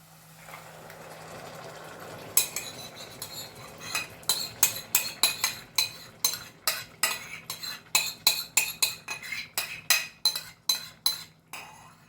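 Sauce poured over stuffed potatoes with fried onion and carrot, then stirred: a soft pour and sizzle, followed by a steady series of rhythmic metal clinks as a utensil scrapes and taps the pan, close up.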